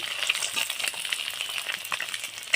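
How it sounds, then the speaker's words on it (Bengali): Eggs fry in hot oil that sizzles and crackles steadily in a pan, with faint spatters and occasional soft scraping. "এইভাবে ডিমগুলো সব ভেজে নেব"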